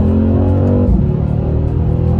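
Low, loud engine drone from a 2021 Mercedes-AMG C63S with matte finish and 503 hp while driving, pitch dipping and shifting briefly during a downshift to third.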